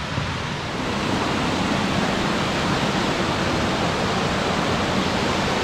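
A waterfall at Akame 48 Waterfalls in a mossy Japanese gorge gives a loud, steady, broadband roar of falling water that stays constant throughout.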